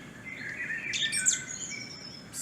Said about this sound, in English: So you can hear the birds in the outdoor summer scene.